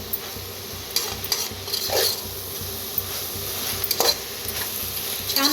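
Rice roasts in oil in a pan while being stirred, a steady soft sizzle broken by a few scraping, knocking strokes of the spoon against the metal, close and without talk.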